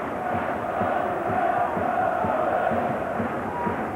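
Football crowd of about 24,000 at Ewood Park for Blackburn Rovers against Arsenal, a steady, dense murmur of voices and chanting filling the stadium at constant loudness, with no standout roars.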